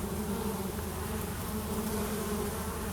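Honeybees fan at a hive entrance, making a dense, continuous buzzing hum that stays steady and close throughout with no voices.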